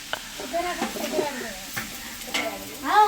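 Thinly sliced brinjal frying in a pan gives a short sizzle with stirring scrapes, while voices talk over it throughout.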